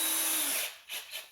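A power drill whirs steadily as it drives a #8 by 1 3/4 inch screw into OSB with a T20 bit, the motor winding down partway through, followed by a couple of short bursts.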